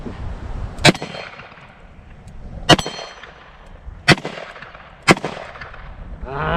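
Four .38 Special +P handloads ring off a steel MGM gong outdoors, each shot a sharp crack with a bright metallic clang, spaced irregularly about one to two seconds apart and loud against a quiet background.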